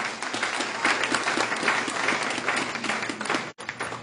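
A church congregation claps together in steady, moderately loud applause that carries on throughout, with a brief dropout near the end.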